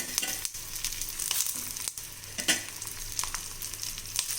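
Dried red chillies, green chillies and coriander frying in a pan, a continuous crackling sizzle with intermittent stirring clicks and scrapes, fairly quiet and close.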